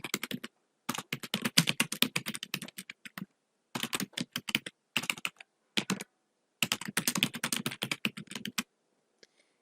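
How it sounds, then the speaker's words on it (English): Typing a title in all uppercase on a computer keyboard gives rapid, close bursts of key clicks, broken by short pauses between words and phrases. "And in all uppercase, I'm just going to type in my title again."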